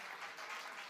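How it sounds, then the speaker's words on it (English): A short, steady burst of audience applause at a startup pitch competition, a dense even wash of clapping heard alone and fairly faint. "A round of applause."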